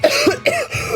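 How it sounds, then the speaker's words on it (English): Woman in a harsh coughing fit while trying to eat fried food: a quick run of three or four loud, throaty coughs close by, with no speech. "Peregrine is coughing her lungs out the second she attempts to eat this thing."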